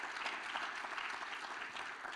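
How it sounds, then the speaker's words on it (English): Faint, steady applause from an audience at a law students' awards dinner and gala, a continuous dense wash of clapping without a break. "So give yourselves a round of applause"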